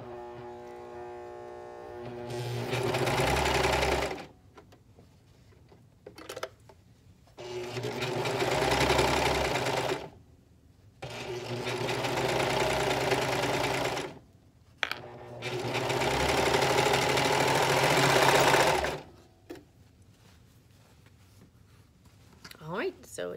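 A sewing machine stitching the middle seam of a sleeveless romper bodice, running in several steady whirring bursts of a few seconds each, separated by short pauses, close and clear.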